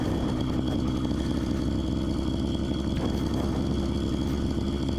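Phantom 85 motorized bicycle engine running steadily on a trail, a continuous low buzzing drone with a slight clatter, close and even throughout with no talking.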